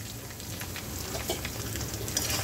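Finely chopped onion frying in ginger-chili paste, a close, steady sizzle and crackle with a few soft stirring taps, and no talking.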